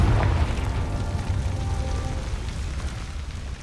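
A Confringo blasting spell in Hogwarts Legacy erupts into a loud, rumbling explosion that fades into a crackling, rain-like hiss of debris.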